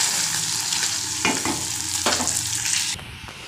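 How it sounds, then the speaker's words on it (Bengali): Spiced masala is sautéed in a pan after frying fish, giving a loud, steady sizzle with a couple of sharp stirring scrapes partway through, with no voices. "আর এইদিকে একটু মশলা কষাচ্ছি"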